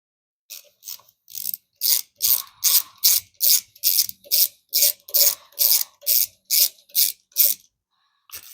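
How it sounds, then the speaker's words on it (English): A ratcheting T20 Torx driver works screws loose on a 2024 Harley-Davidson Road Glide while heated grips are fitted, ticking in about fifteen evenly spaced, close, sharp clicking bursts, with no talk. "we'll use the T20 to get the 2 screws out of the back"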